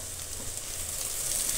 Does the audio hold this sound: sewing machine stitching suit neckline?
no